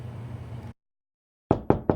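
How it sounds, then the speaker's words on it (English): Three sharp knocks on a door, close and evenly spaced, coming after a low hum cuts off into silence. "Suddenly, there was a knock on the door."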